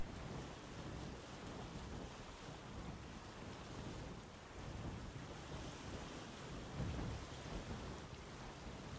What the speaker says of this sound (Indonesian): Oh, badai kah? Banyak petir-petir gitu,